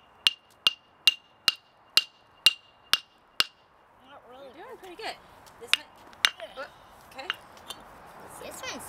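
Eight sharp, evenly spaced metallic hammer strikes cracking a geode, followed by voices talking and a few more scattered knocks.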